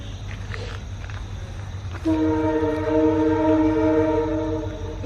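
A train approaches a level crossing in Karnataka, India, its horn blaring a sustained multi-tone blast after a low rumble, loud and nearby.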